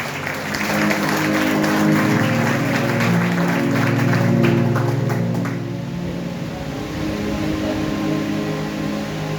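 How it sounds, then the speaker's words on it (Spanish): A large church congregation applauds steadily, a dense wash of clapping that swells and then eases slightly while continuing, with a faint musical hum underneath. "Dale un aplauso maravilloso al Rey."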